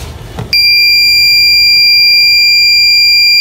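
A sharp, steady electronic buzzer on an Arduino Nano ultrasonic motion detector (HC-SR04 sensor) kicks in abruptly after a brief bit of background noise and holds a piercing continuous tone, loud and close.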